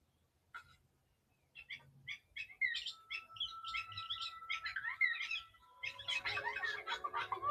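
Birds chirp in quick, bright bursts that build into a busy, overlapping twittering chorus, faint and alone after a short quiet start.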